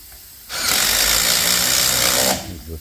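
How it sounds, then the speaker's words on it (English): An impact wrench drives cleat bolts back in with one loud, close burst of about two seconds of harsh whirring and rattling, with quieter shop noise before and after. "he's going to get the impact here and put everything back in"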